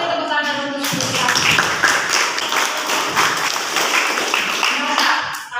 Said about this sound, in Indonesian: Beri tepuk tangan untuk kita.